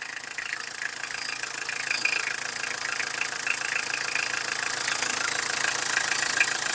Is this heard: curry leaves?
no